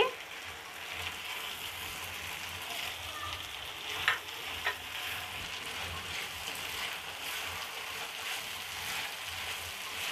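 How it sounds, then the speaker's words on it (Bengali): Chopped tomato and potato frying in a pan give a steady, close sizzling hiss for the whole stretch, with a couple of brief clicks of stirring near the middle. "ভালোভাবে কষিয়ে নিব। আমি এখন দিয়ে দিব টমেটো কুচি।"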